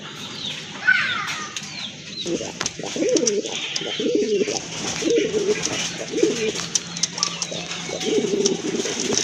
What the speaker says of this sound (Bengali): এই যে দেখেন ডাকতেছে এটা কিন্তু আপনার নর হিউজ সাইজ কবুতরের